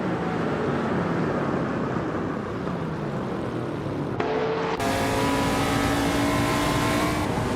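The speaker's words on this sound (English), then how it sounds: "Gina Prime is driving a 1971 AMC Matador and is currently in 5th place" A 1971 AMC Matador racing engine roars steadily and loudly throughout, with a brief shift in pitch partway as the race continues.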